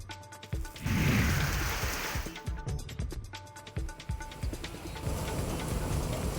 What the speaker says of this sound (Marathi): पंढरपूरमध्ये जोरदार अवकाळी पाऊस झालाय.